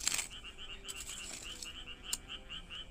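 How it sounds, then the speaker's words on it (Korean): Frogs croak in a repeated, rhythmic chorus near a rural potato field, steady and fairly loud with no talking over it. "개구리 소리도 개굴개굴 나죠?"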